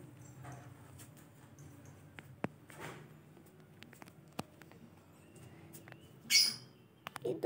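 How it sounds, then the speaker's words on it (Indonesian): Small birds give faint, brief chirps and tweets at close range amid quiet room noise, with a short, sharp burst of higher calls near the end. "Itu burungnya."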